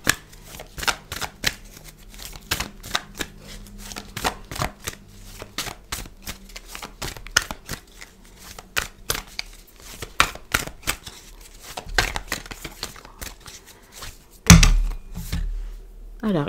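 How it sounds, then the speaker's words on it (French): Tarot cards being shuffled by hand over a table, with steady rapid riffles and soft slaps continuing for several seconds, ending with a heavier thunk near the end. "il y a trop de cartes ici, donc on va continuer de battre"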